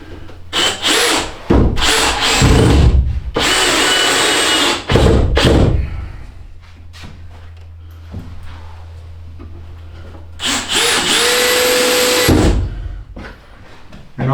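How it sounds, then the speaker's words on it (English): A power drill drives screws into a wooden bed frame in a box truck camper, giving several loud bursts of whining motor and grinding wood separated by short pauses, close up and with no talk. "Couple of screws just to tack it in place."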